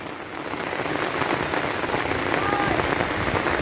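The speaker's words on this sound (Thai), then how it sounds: "ฝนตกพี่น้องฝนตก" Steady heavy afternoon rain pattering on a surface at a house in Thailand, a dense continuous hiss with no breaks.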